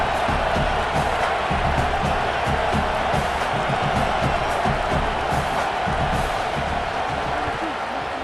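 Stadium crowd roaring and cheering in the EA Sports College Football 27 video game, a dense continuous wall of noise from many voices that holds steady throughout, with no clear commentary over it.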